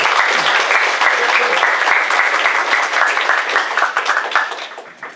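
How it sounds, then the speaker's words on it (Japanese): A seminar audience applauds after a presentation, a loud steady wash of many hands clapping that holds for several seconds before tapering off at the end. "もう一度大きな拍手を。"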